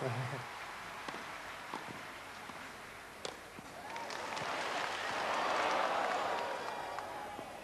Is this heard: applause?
yes